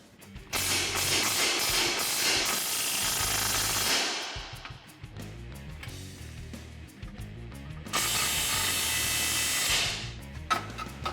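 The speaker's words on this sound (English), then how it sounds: "we're going to remove these nuts using our 18mm socket" A tool fitted with an 18mm socket spins off strut nuts on a 2014-2020 Ford F-150 during a suspension lift, in two long, loud, rattling bursts separated by a quieter pause.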